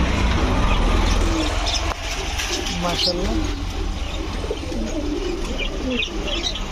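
Pigeons of breeds such as Budapest, Shahranpuri, racer and Giribaz coo repeatedly at a seller's, soft rolling calls over a constant background hum while people talk nearby.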